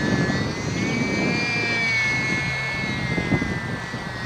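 An SBACH 342 RC model aircraft running on a 200mAh battery climbs vertically under power, its small electric motor giving a steady, loud, high-pitched whine with a slowly shifting pitch throughout, heard close with no talking.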